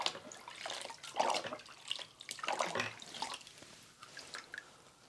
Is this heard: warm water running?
yes